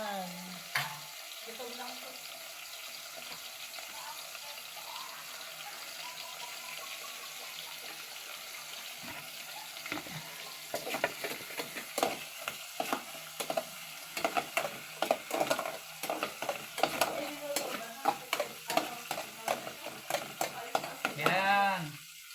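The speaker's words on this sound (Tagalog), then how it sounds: "Medyo pabrownin po natin yung bituka bago lagyan ng sabaw." Tilapia innards frying and browning in a pan for pinapaitang tilapia, with a soft steady sizzle and intermittent stirring scrapes growing busier toward the end.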